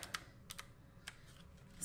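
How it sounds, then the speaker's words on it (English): Scattered keystrokes on a lightweight, customizable keyboard with little feet, a handful of crisp clicks in an uneven rhythm over a quiet room, with no voices. "It's really satisfying to type on this keyboard."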